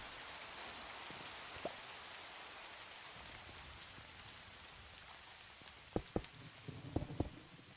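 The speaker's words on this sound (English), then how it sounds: "It's a thunderstorm, and Anderman's freaking out." Thunderstorm rain falls in Minecraft as a steady, even hiss that fills the clip, with a few soft knocks and taps toward the end and no voices.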